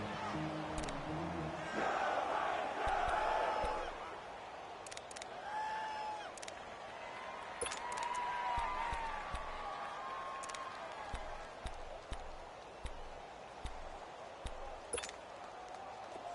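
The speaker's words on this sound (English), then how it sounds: "the crowd getting into it as we come up on a big third down" Video game stadium crowd in a PS4 American football game, a broad roaring cheer swelling early then settling into steady murmuring noise with scattered whistles and shouts, building ahead of a big third down.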